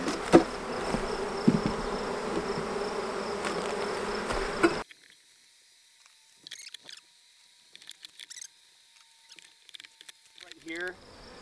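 A busy buzz of honey bees around a swarm trap and hive fills the first few seconds loudly and steadily, then drops away to near quiet with only scattered faint rustles and bumps.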